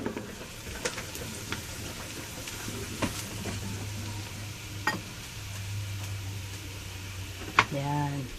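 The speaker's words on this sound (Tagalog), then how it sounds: "luluto-lutuin natin ang ating bawang" Garlic sautéing in a pan for Filipino-style mussel pasta gives a soft, steady sizzle with scattered ticks of stirring, heard under intermittent talk.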